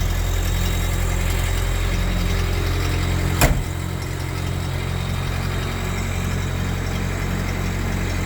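A carbureted 21R engine in a 1980 Toyota pickup idles steadily with a low, even hum, a brief sharp click breaking in partway through and no voices.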